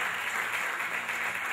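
Applause at a band competition awards ceremony for the director of a music school, a steady wash of clapping without pause at moderate level.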